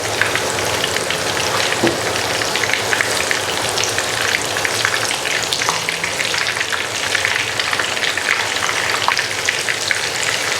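Butter and potato mixture fries in a pan for potato meatballs, making a loud, dense, continuous sizzle like heavy rain, with faint stirring movements underneath and no speech.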